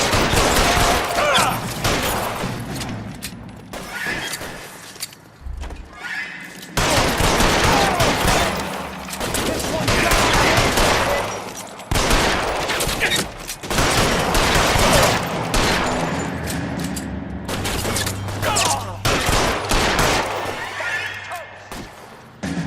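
Police shootout gunfire in L.A. Noire Remastered at the Nicholson Electroplating plant: loud, sustained volleys of rapid shots and bursts with short pauses between them, heavy and close. Voices are heard now and then.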